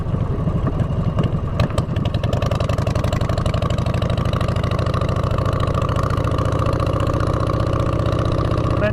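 Motorcycle with drag exhaust pipes idling close by, a loud, steady low rumble with a fast even pulse, a brief throttle blip near the start, no talking.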